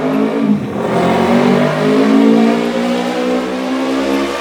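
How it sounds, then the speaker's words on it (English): A car engine revs hard and loud, a sustained close roar that climbs in pitch and holds before easing slightly, with no voices. "Rev that engine."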